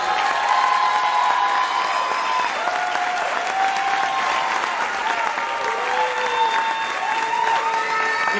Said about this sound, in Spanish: con un aplauso estruendoso.